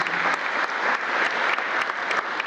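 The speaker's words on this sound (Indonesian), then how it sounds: "Kita beri tepuk tangan untuk Bursa Efek Indonesia." Thick, steady crowd applause at the opening ceremony of the Indonesia Stock Exchange's 2017 trading year, close and continuous with scattered louder claps standing out across the short stretch.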